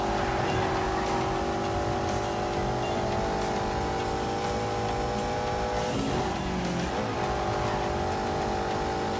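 A car in The Grand Tour video game braking hard, its tires squealing under a steady loud engine drone, with a brief skid near the end and no talk.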